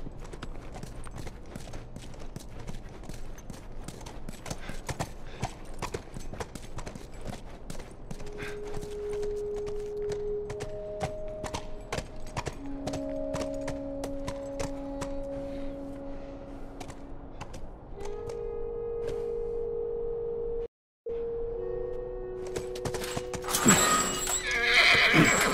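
A horse in the video game The Last of Us clip-clops along at a steady pace, with a few sharp snorts and tonal whinnies. Near the end the hooves are joined by louder, clattering game sounds.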